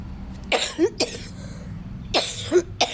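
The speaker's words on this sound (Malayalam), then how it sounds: "ഭയങ്കര ചുമയാണ്" A person with a bad cough from cold, changing weather coughs in two short bursts of several hacking coughs each, close and loud over quiet background.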